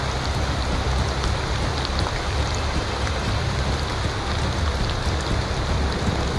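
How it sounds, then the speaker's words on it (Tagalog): A constant, loud downpour of rain drums and hisses on surfaces nearby, unbroken and without voices. "sobrang lakas nga ng ulan"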